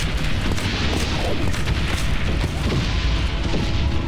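Dense, continuous rumbling bomb explosions from the World War I video game Valiant Hearts, booming heavily and steadily throughout with no clear breaks.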